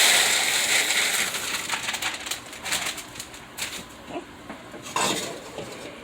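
Dry cereal pours and rattles into a pan, a series of crisp scattered clinks and rustles with a few louder bursts, close and alone.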